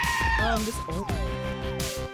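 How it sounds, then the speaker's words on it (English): A warbling, pitch-bending sheep scream in Hades II, cartoonish, loud and close, mixed with other game sounds and some talk. "That's a sheep scream."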